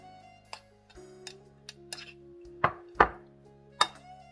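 A spatula clacking against a pan as rice with naem is stir-fried, giving irregular sharp knocks and scrapes, a few louder hits near the end, close and without talk.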